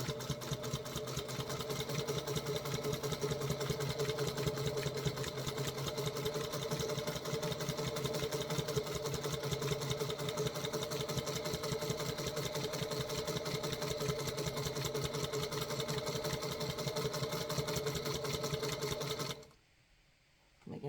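A sewing machine stitches rag quilt blocks in one long, steady run of rapid, even needle strokes, close and continuous, before stopping abruptly near the end.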